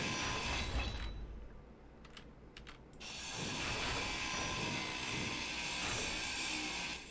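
A grinder machine in the survival game Unknown Regions runs with a steady mechanical whirr, briefly drops away to a few sharp clicks, then resumes at full, continuous strength.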